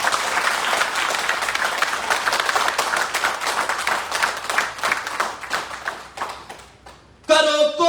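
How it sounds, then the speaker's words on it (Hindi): Audience at a business development training session clapping steadily in dense applause for about seven seconds, then it stops abruptly and a voice begins speaking. "चलो अब ताली बजाओ"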